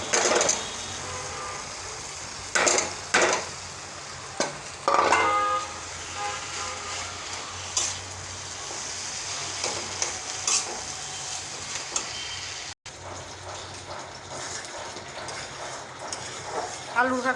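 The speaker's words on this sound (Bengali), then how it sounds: "আলু ঘাটিটা আমি ভালোভাবে কষাই নিচ্ছি।" Potato mash mixture being stirred and sautéed in a pan for a Bengali ghonto, with soft scraping strokes and a low sizzle heard close up, occasional louder clatters, and talk over the cooking.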